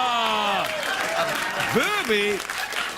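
A crowd lets out a drawn-out, rising and falling "aww" together, many voices blending, with scattered applause underneath.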